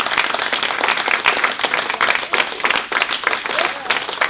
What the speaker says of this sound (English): I just want to give a big round of applause to all of these